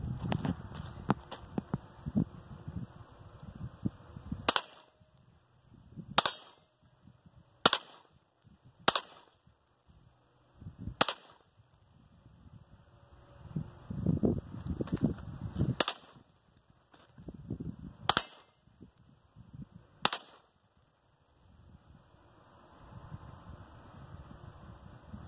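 A .22 rifle, a Winchester 9422 XTR lever action, fires about nine sharp, crisp shots at irregular intervals outdoors, with quiet handling noises and rustling between them.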